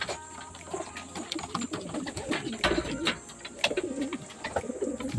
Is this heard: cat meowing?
no